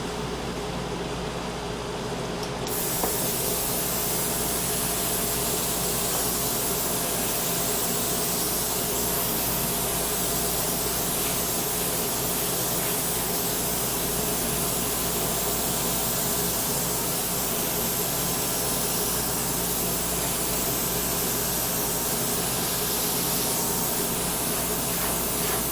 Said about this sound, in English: Now I'm going to take my little air compressor, cordless air compressor,